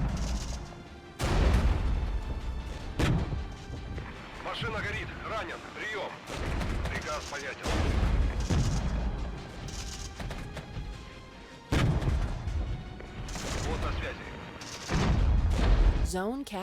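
Artillery in the war game Regiments fires repeatedly, with deep booms and crashes landing every second or two through a battle soundscape, while a voice talks in between.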